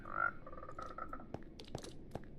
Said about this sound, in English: Right, come on, frogs.